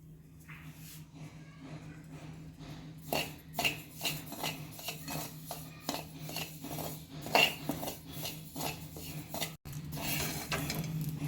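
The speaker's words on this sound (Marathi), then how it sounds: "आता आपण राजगिरा देखील अशाच पद्धतीनं छान भाजून घेणार आहोत" Amaranth (rajgira) seeds dry roasted in a pan for a fasting flour mix, a spoon scraping and clinking against the metal in irregular strokes, close and moderately loud, over a low steady hum.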